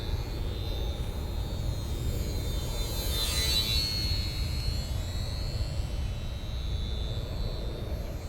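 A model airplane held at constant throttle skims low over the ground, its engine a steady distant drone that swells slightly as it passes by, with no voices.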